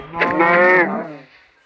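A cow moos once, a loud, close, drawn-out call that swells and then fades, with quiet background after it and no talking.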